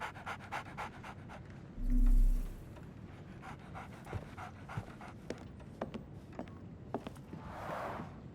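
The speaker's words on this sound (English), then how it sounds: "So, Barnes has a dog now." A dog in the Sherlock Holmes The Awakened video game pants in rapid, steady breaths for several seconds, close and fairly quiet, with a brief low thump partway through.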